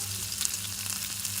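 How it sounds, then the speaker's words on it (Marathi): Mustard seeds, cumin, bay leaf, cloves and black pepper sizzle in hot oil inside a pressure cooker, a soft, continuous crackling fry close by, with no talking. "त्यासाठी कुकरमध्ये तेल, मोहरी, जिरे, तेजपत्ता, लवंग, मिरे टाकून घेऊ आणि थोडं परतून घेऊ"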